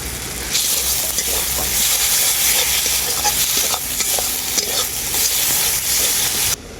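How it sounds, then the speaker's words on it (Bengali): Masala with chopped tomato and Kashmiri chilli powder stir-frying in a pan, a loud, steady broadband sizzle with scraping stirs throughout, cutting off sharply at the very end. "মশলাটাকে আমি খুব ভালো করে কষিয়ে নিয়েছি"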